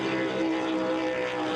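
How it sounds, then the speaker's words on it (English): Racing powerboat engines in the Florida Keys roar steadily with a droning, buzzing tone, loud and continuous, with no pauses. "the huge roar of powerboat racing"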